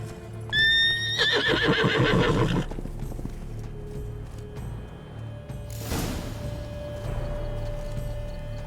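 A horse in The Witcher 3: Wild Hunt Blood and Wine gives a loud, close whinny, then hooves clop along, followed by a sharp rustling burst over a steady ambient game hum.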